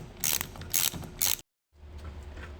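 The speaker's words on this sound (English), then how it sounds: "you can see the way that our throttle body is bolted in, and it's going to be these 4 bolts that we remove next" A ratchet works on the bolts of a car engine's throttle body, giving three quick bursts of close clicking, then a brief silence and softer clicks.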